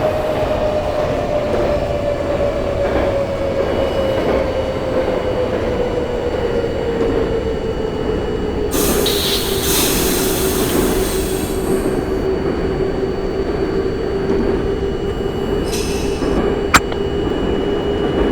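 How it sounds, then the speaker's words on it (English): NYC subway C train running in the OpenBVE train simulator game, arriving at 59th Street: a loud, continuous rumble of rail noise with a slowly falling motor whine and a burst of hiss midway, no talk. "C train coming in at 59th Street"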